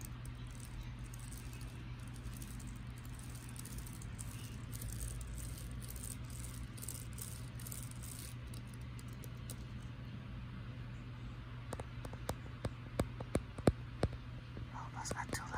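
Fingers scratch and tap across a computer keyboard in a close, quiet ASMR setting, a soft continuous rattle with sharper clicks toward the end, over a steady fan hum in the background.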